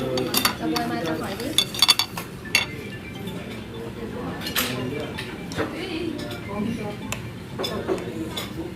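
Cooked snails being scooped from a pot with a ladle or spoon, with repeated metallic clinks and scrapes against the pot, amid busy background chatter from people nearby.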